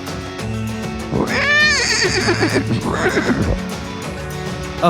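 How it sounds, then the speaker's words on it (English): A horse gives a loud, high whinny that rises and then trails down, followed by a softer second neigh, all over steady background music. "A horse neighs."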